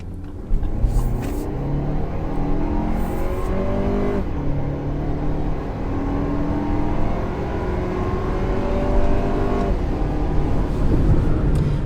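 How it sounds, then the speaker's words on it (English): A 2024 Lexus RX350 turbo four-cylinder engine revs hard under full throttle, a steady loud rising drone with gear-change dips, close and continuous throughout. "let's go ahead and open this up full throttle and see how it sounds"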